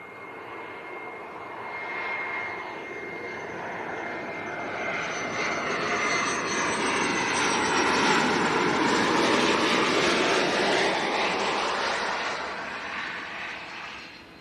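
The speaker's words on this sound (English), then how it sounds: "here comes the EasyJet from Naples" An EasyJet airliner from Naples arrives at Leeds Bradford Airport, its broad jet roar swelling steadily to a loud peak mid-pass, then easing off as it moves away, with no talk.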